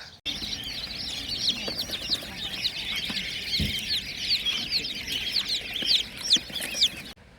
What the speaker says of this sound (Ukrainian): Взяли 10 дуже маленьких курчаточок.